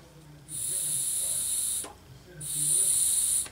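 Air hisses loudly through an MDS 40 carburetor in two sustained bursts, with a short gap between them and faint background noise.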